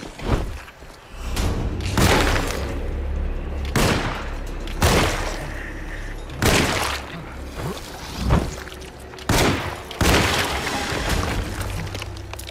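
Gunfire in the horror game Alone in the Dark: repeated heavy shots land every second or two, each a loud broadband crack with a booming tail over a low droning ambience, with no talking.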